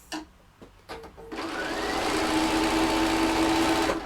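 A domestic sewing machine whirs into a steady, fast stitching run as fabric pieces are joined, following a few brief clicks and handling noises.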